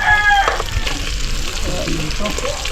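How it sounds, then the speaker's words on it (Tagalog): Food sizzles and crackles steadily in a hot pan, with a brief clatter and faint background noise throughout. "igisa na natin"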